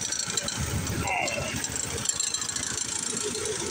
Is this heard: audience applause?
no